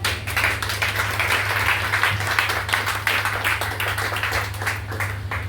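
A church congregation clapping together, a dense, continuous patter of many hands close by, steady and rhythmic without talk.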